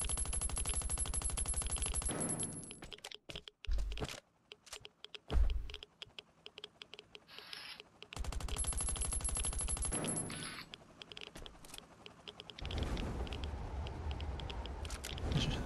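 Gunfire in the Last Island of Survival video game, dense rapid bursts of shots mixed with sharp clicking, loud and close, broken by short gaps and a few isolated louder cracks.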